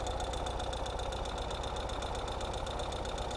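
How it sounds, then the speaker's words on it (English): A 2022 Ural Gear Up motorcycle backing up in mechanical reverse, its engine idling in a steady, even knocking rhythm, moderately close and unbroken by talk. "And we're gonna back up in a motorcycle."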